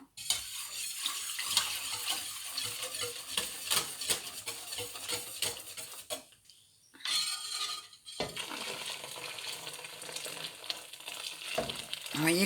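A homemade laundry detergent mixture is stirred in a pot, giving a continuous wet swishing and scraping that briefly drops off before resuming.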